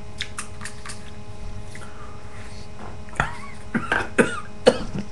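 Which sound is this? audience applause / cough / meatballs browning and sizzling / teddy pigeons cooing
cough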